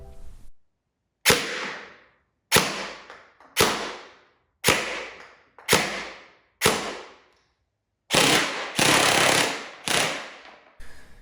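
Krytac PDW airsoft gun with a DSG gearbox, firing 0.2 gram BBs, crackles through eight loud, sharp bursts, most short, separated by brief silences, with a longer sustained volley near the end.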